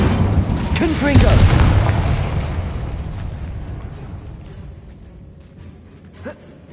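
A Confringo explosion spell goes off in the Hogwarts Legacy game: a loud, deep boom that swells within the first two seconds, then a rumbling roar that slowly fades, with a brief vocal gasp and a small late pop.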